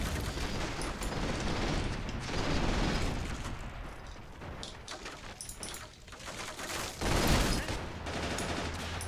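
Sustained machine-gun and anti-tank rifle fire in a 1v1 multiplayer strategy match, a dense rattle of rapid shots with louder bursts and booms rising and falling over the whole stretch, no voices.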